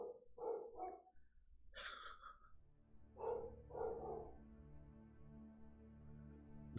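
A dog barks a few times, with short, sharp barks in two clusters. Each bark is followed by a low, steady hum, and the sound is fairly faint.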